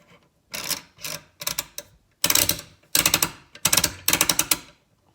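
A Matador Arms Regulator muzzle brake being turned and worked by hand, a series of short, close metallic clicking and rattling bursts separated by brief pauses.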